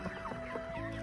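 Young chickens clucking softly around a cottage yard in the morning, a few quiet, close clucks over a low background hum, with no talking.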